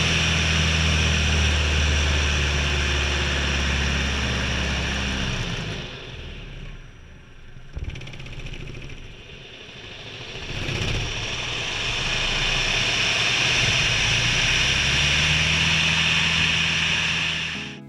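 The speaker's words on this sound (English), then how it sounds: "That was the sound of a de Havilland's Chipmunk performing a stall turn." A de Havilland Chipmunk piston-engine aircraft performs a stall turn: a steady loud engine drone fades and dips as the plane climbs and pivots, then swells back to full power, with no talk.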